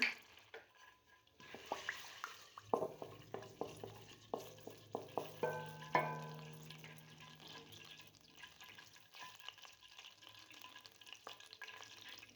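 Whole spices drop into hot oil for Punjabi aloo methi, setting off a run of sharp pops and spatters over a crackling sizzle that gradually settles into a softer, steady fry; quiet and close, with no talking.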